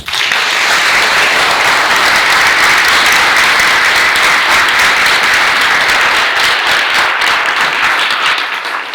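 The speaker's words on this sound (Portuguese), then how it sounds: "Obrigada pelo aplauso." A lecture audience applauds at an inaugural class, sustained, loud and dense clapping from many hands that carries on steadily and begins to thin slightly near the end, with no voices over it.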